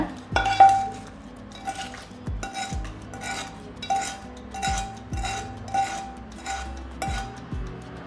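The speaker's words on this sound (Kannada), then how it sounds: "ಈಗ ಈ ಮೊಸರು ತಂಬುಳಿಗೆ ನಾವು ಮಾಡಿರೋಂಥ ಒಗ್ಗರಣೆನೂ ಕೂಡ ಹಾಕ್ಕೊಬಿಡೋಣ" A ladle clinks and scrapes against a metal pot as hot tempering is poured into fenugreek curd tambuli and stirred, giving a series of sharp, close metallic taps in an irregular rhythm.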